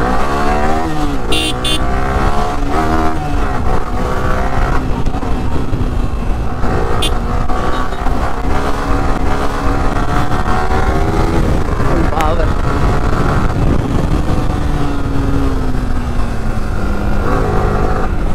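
Steady, loud roar of traffic and engine noise while riding a Yamaha R15 V3 motorcycle through busy road traffic, with wind and continuous engine drone throughout and speech faintly mixed in.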